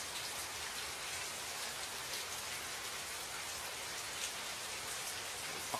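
Steady rain falling in an outdoor setting, a dense, even hiss that holds at the same level throughout with no talk or other sounds.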